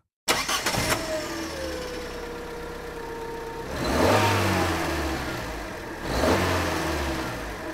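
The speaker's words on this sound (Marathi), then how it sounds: "चला कारच्या इंजिनचा आवाज ऐकूया." A car engine starts and runs at a steady idle, then revs up loudly twice, with the pitch rising and falling back each time; no talk over it.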